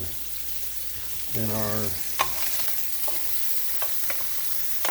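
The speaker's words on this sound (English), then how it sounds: "we have right now chopped garlic and onions in the pan" Chopped garlic and onions fry in a pan on a stove a little over medium-high, giving a steady close sizzle with a few sharp pops and spatula clicks, while someone speaks briefly over it.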